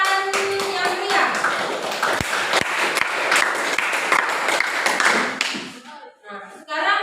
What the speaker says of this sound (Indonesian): kita beri lagi tepuk tangan yang meriah